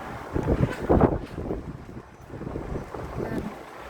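Gusty wind buffets the microphone in rough, uneven bursts while rain falls and trees sway, a steady outdoor rush of weather with no voices.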